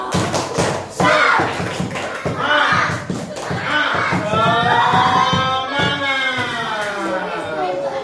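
A group of adults in a classroom claps in rhythmic bursts and then shouts together in a loud chant, close and energetic.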